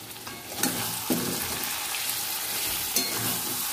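Chicken masala frying in a hard-anodised pan, a bright continuous sizzle close by with a few soft stirring knocks, no talking.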